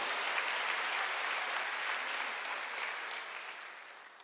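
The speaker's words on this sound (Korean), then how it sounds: "박수를 하죠" A church congregation claps steadily, dense and even, slowly fading toward the end.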